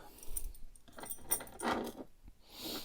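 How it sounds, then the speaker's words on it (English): Bunch of mortice lock keys jangling as someone rummages for them, soft, close metallic clinks and rattles scattered across a few seconds with no talking. "If I can find some bloody keys, here we go."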